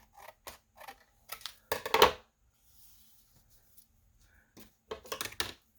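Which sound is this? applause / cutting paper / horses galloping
cutting paper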